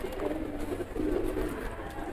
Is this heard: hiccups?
no